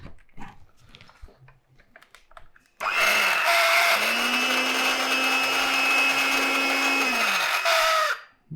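A Rotex RHM200-K hand mixer, just repaired with a new drive coupling, bushing and mount, starts up abruptly after quiet handling noises and runs at a steady high whir with a rising then level tone for about five seconds before shutting off.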